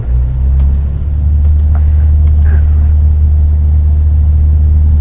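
A Grumman light aircraft's engine held at full throttle while taxiing, a loud steady low droning roar that swells slightly early and then holds even and close throughout, with no speech over it.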